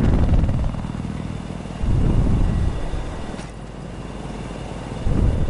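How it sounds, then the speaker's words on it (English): A helicopter in the video game Battlefield 4 keeps up a loud, steady rotor and engine roar that swells in a few pulses, with no voices over it. "I'm in a helicopter."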